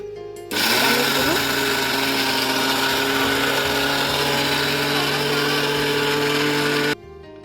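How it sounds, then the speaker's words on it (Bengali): A mixer grinder grinding rice roars to life, whirring loudly and steadily for several seconds before abruptly stopping; grinding rattle underneath the motor hum. "প্রথমে আমি মিক্সারে মিক্সি জারে দিয়ে দিচ্ছি"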